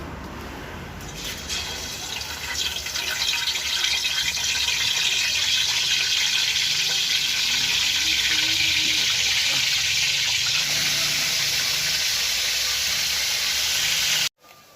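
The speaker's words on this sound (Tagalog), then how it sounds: "So si Palaka po ang magpiprito nito." A loud, steady sizzle of food frying in a pan fills the clip, hissing continuously at close range before cutting off abruptly.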